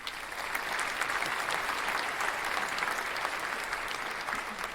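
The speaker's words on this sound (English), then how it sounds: "Applause rose from the audience." Steady, dense applause from a sizable audience, many hands clapping at once in a continuous wash of sound with no voices standing out.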